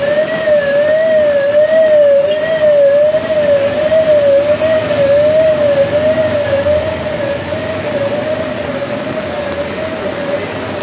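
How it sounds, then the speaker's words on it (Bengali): Ambulance siren wailing in a steady rising-and-falling cycle over the hiss of rain and traffic on a knee-deep flooded street in Cox's Bazar after heavy rain, loud throughout and easing slightly toward the end. "আমরা দেখছি একটি অ্যাম্বুলেন্স আসছে, সেই অ্যাম্বুলেন্সটিও এই পানি দিয়ে যাবে অবশ্যই।"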